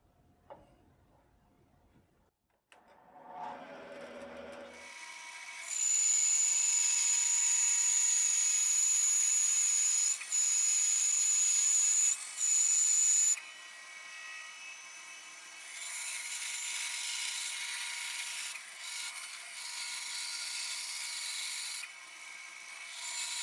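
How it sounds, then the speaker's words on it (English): Bandsaw rough cutting a wooden forestock for an original Kar 98 rifle, a loud steady high whine running through two long cuts with a brief pause between, after some quiet handling at the start. "I'll rough cut this out on the bandsaw."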